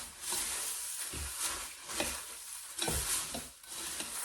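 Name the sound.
stirring cereal to coat it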